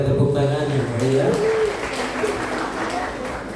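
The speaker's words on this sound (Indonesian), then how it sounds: "Mari sekalian kita berikan tepuk tangan yang meriah." A church congregation at a Christmas service claps heartily, the applause swelling as a voice fades out at the start, then continuing as an even wash of many hands.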